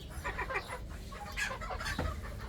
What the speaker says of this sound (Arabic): ديك حباحب ودجاج نقدر نقول عن عربيات